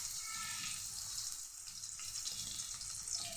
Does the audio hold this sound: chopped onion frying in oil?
yes